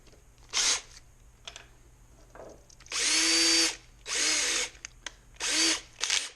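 A power drill drives bolts into a Corona 3354 weeder part in several short bursts of high whirring, with quiet pauses and small clicks between runs, close and fairly loud.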